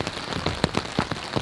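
Rain falls steadily in the Canadian Rockies, a close, dense patter with a few sharper drops hitting a nearby surface.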